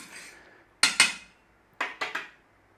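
Spoon clinking against a bowl or jug while stirring instant yeast into milk and sugar, two quick close taps, a pause, then three more light knocks.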